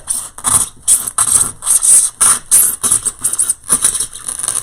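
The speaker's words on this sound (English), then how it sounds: "knife and just go right down through here. Kind of score this." A knife scores a block of floral foam with quick, rhythmic scratchy strokes, close and fairly loud, the crisp rasping bursts repeating rapidly with brief pauses between.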